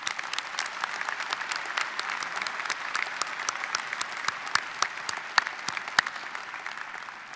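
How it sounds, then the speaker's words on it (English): A large audience at a university commencement ceremony gives a full round of applause, dense sustained clapping with sharp individual claps standing out, steady and continuous with no voices over it. "Another round of applause for Professor Gates."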